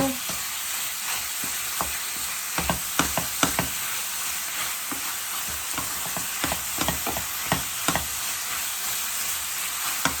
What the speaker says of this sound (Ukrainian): тепер нам треба його підсмажити разом з цибулькою